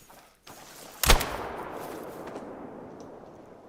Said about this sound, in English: Got our big old shotgun out. Semi-auto 12 gauge.